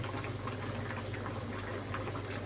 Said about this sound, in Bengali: তো এই তো আমার সবজি রান্না হইতেছে প্রায় শেষ পর্যায়ে